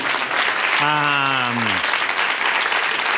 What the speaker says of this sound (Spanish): yo pido un aplauso para Lucía.